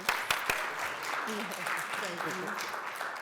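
A crowd applauding at a college opening session, a wash of clapping that fades under a person speaking.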